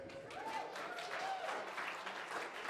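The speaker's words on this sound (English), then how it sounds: "Let's take a moment to give them a round of applause." Wedding guests in a hotel ballroom in Newport, RI applaud together, a steady continuous patter of many hands at moderate level, with a voice briefly audible over it.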